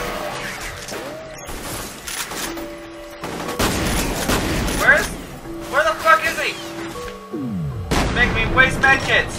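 Shotgun blasts from the first-person shooter F.E.A.R., buckshot striking concrete, firing in several loud booming bursts amid other game combat noise, with someone talking over the action.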